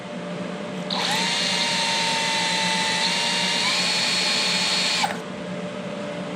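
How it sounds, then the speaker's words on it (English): A power drill bores through steel, used for a weld repair on a broken small-block Chevy starter mounting flange; a steady, loud, close whine runs about four seconds alone over background hum, then stops. "so that way I drill it nice and straight."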